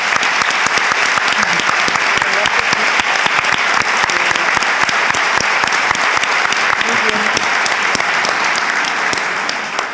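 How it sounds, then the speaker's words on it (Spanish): Sustained, loud audience applause at a round-table session of a spirituality forum, a dense, even roar of many hands clapping that carries on without a break and tapers slightly near the end. "se merecen un aplauso"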